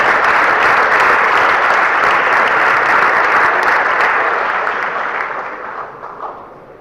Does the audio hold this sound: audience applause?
yes